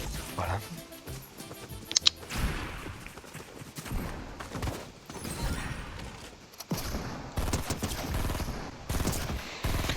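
Gunfire in a Fortnite no-build 50 vs 50 match, bursts of rapid shots broken by short pauses and a sharp crack near the two-second mark, with a voice talking over the action.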